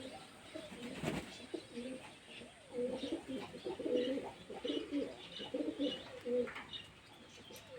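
Pigeons coo while bathing in water, in low, rolling bursts that repeat steadily, with a few light chirps and soft background noise around them.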